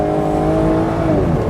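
A 2014 Aston Martin Vanquish Volante convertible gives a steady, close engine drone that rises slightly in pitch near the end, heard alone without talk.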